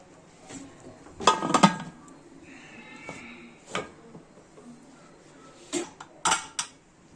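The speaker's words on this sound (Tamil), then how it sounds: "இப்போ குக்கர் மூடி போட்டுடலாம்." A metal pressure cooker lid clatters and clicks into place over mutton kurma, with a burst of metallic knocks followed by scattered clinks and scrapes in a quiet kitchen.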